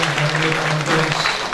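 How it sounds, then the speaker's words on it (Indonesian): Audience applause for Professor Mohtar Mas'oed at an academic talk, steady clapping from a crowd throughout, fairly close, with a voice over it. "Kita berikan aplaus sekali lagi untuk"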